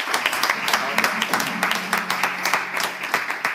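An audience claps for a singer coming on stage on a TV show, a dense run of crisp hand claps over a low steady hum, with a voice faintly audible underneath.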